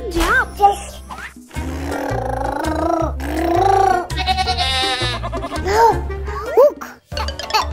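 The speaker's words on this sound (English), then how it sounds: "It's a goat!" A goat bleats at a farm in several wavering, voice-like calls, close and loud, mixed with a child's and adult's excited talk.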